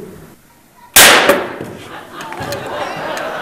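A rifle in a comedy skit fires a single loud, sharp shot that cracks out of near quiet and then decays into a lingering rumble and room noise.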